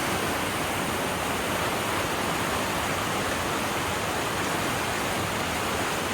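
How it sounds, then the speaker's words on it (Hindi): Fast, heavy river current rushes past at a riverside spot, a dense, steady roar of churning water that stays loud and unbroken throughout with no voices. "पानी का बहाव बहुत तेज है।"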